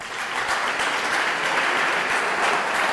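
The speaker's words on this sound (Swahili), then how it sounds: "Wanafunzi, jipigieni makofi." A group of school students applauds at an event, a dense, sustained clapping that stays loud and even for its whole length with no talk over it.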